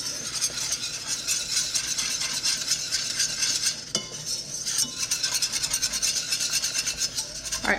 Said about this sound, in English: To this, 3 tablespoons of flour. We're gonna whisk it in until it makes a paste.